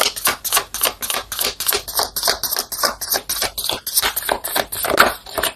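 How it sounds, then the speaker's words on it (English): Tarot cards shuffle in rapid, even riffling bursts, a close papery flutter that repeats continuously. "these cards are flying today"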